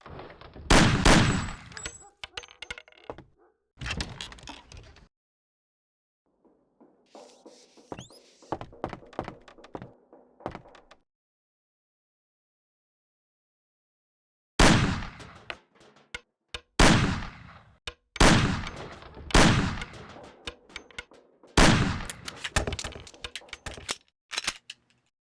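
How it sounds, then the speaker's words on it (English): Gunfire in the video game Mafia as cans are shot off a table: loud, sharp shots come in clustered bursts separated by pauses, some in rapid succession. "Shoot the cans off of the table."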